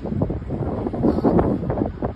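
Gusty typhoon wind in Hong Kong buffets the microphone, a continuous low rumbling roar that swells and fades without pause.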